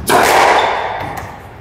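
A squash ball struck hard by a racket during a practice drill on a court, one sharp loud crack followed by a ringing reverberant decay in the enclosed court.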